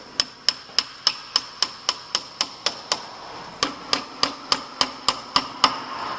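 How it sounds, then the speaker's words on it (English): A hammer striking a nail into wood on a memo holder craft project: about twenty sharp, evenly spaced blows in a steady rhythm, close and loud, with one brief pause partway through. "I'll hammer that nail for you"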